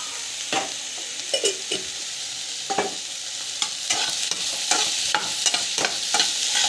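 Two garlic cloves sauté in oil for kovakkai pachadi, a close, steady sizzle punctuated by a series of sharp scraping strokes as a spatula stirs the pan at irregular intervals.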